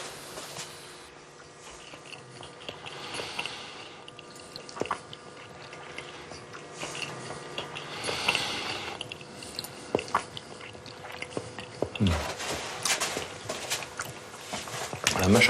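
Someone chews a bite of Saint-Nectaire cheese, soft squishy mastication and small bites recurring close up over a low room hum, with a few sharper crunchy moments near the end.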